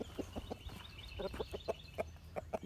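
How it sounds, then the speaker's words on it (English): Chickens eating donkey feed on a farm give soft, short clucks in a loose, irregular pattern over faint background noise. "The chickens are eating the donkey food."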